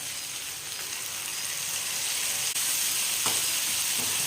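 A ground paste of tomato, coconut, cinnamon and cloves sizzles and fries steadily in a pan for a prawn gravy, a close, continuous crackle with an occasional stirring scrape.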